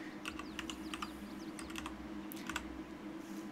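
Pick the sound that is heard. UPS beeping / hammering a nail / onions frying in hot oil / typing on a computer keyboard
typing on a computer keyboard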